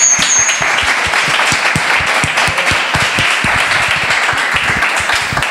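An audience at a Spanish-language masterclass on artificial intelligence and quantum computing claps, loud and close, in a dense, steady burst of many hands that holds for several seconds.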